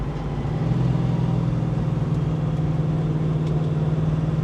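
A 1969 Mustang Mach 1 with a 427 side oiler V8 at half throttle, tires spinning: a loud, steady, continuous engine roar with a strong low rumble, holding constant throughout with no talk.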